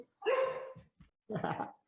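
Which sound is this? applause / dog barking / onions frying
dog barking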